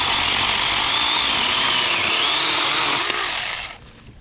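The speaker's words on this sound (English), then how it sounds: "The Shaker 4-inch portable electric chainsaw. See if we can get through this line." A Saker 4-inch portable electric mini chainsaw whines at high speed while cutting through a branch, steady and close for several seconds before spinning down and stopping.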